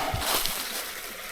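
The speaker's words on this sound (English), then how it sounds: "A little waterfall, you kidding me?" A small waterfall on a wooded hiking trail in Hawn State Park splashes and rushes steadily nearby, a broad bright wash of falling water.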